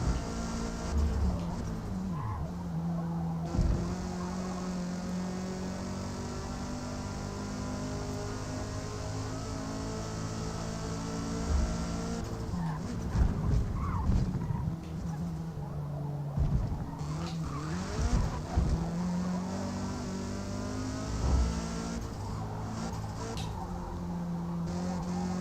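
Race car in the Forza Motorsport video game, a sustained engine drone rising and falling through gear changes, with tire squeal and skidding bursts midway, steady and prominent without talk.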